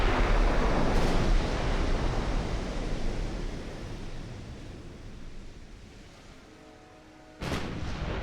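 Naval gunfire in Ultimate Admiral Dreadnoughts, a battleship-era game with 12-inch guns: a loud boom opens, followed by a long rumbling decay that fades toward quiet, then another sharp blast near the end, with no talk.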